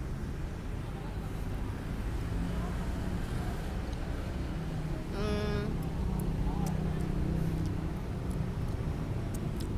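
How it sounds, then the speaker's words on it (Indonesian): Roadside traffic noise drones outside a Korean food stall, with one motorbike whining past midway through, all under steady background chatter. "ada suara motor karena kita di pinggir jalan nih"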